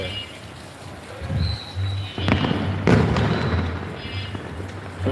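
Fireworks going off outdoors on a moonlit night, a few dull booms and cracks scattered through the clip, moderately distant, with a steady low engine hum and some background voices.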